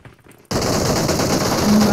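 Sustained automatic gunfire in a PUBG battle royale match erupts abruptly and continues loud and dense for over a second, following a brief quiet moment.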